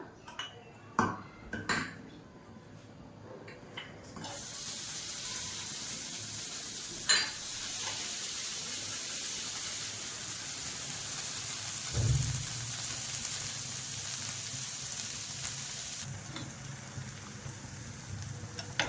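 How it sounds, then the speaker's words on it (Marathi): Pav bread roasting in ghee on a flat pan for street-style masala pav gives a soft, steady sizzle, with a few sharp clinks of a utensil against the pan near the start and middle. "पुन्हा आपण याला तूप लावून भाजून घ्यायचं छान असं भाजून घ्यायचं याला"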